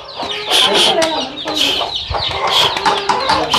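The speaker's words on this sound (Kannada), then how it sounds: "ನಾಟಿ ಕೋಳಿನ" Native country chickens cluck and squawk loudly at close range in an outdoor yard, several birds overlapping in busy, irregular bursts with no pause throughout.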